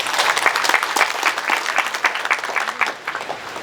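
Audience applauding the head of a district religious affairs office at a civil servants' gathering, a steady stretch of dense clapping from a room of people that tapers slightly toward the end.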